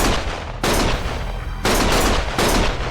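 Loud bursts of automatic gunfire crackle through a cutscene of the video game Lost Judgment, with dense sustained volleys broken by brief lulls and no voices.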